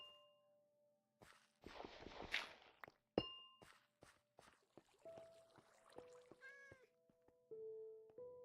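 A Minecraft cat meows a few times in a short rising-and-falling call near the end, following a scatter of block-placing clicks, dings and footsteps in the game.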